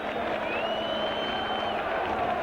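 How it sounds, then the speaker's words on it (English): Stadium crowd at a rugby league match between Widnes and St Helens cheering a try, a broad continuous roar of distant voices with a whistle-like tone sliding through it. "Afire receiving the plaudits of the crowd"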